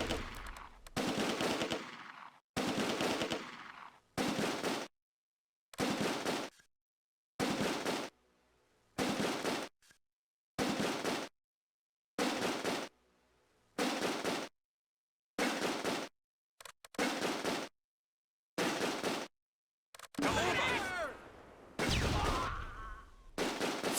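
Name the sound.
gunfire and grenades in close combat battle, video game Close Combat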